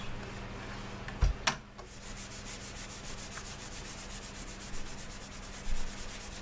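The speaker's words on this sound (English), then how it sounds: "I'm gonna go ahead and take my paper towel and give it a quick buffing" A paper towel rubs briskly over a finished leather belt billet, a close, steady soft scrubbing hiss with a couple of brief knocks near the start.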